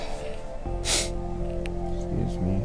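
One quick, sharp sniffle from a runny nose cuts in over a person's ongoing talk, close and brief.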